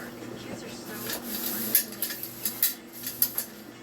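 A big round metal pizza pan being handled for toasting nuts, with a series of light clinks and taps toward the end over a quiet kitchen background.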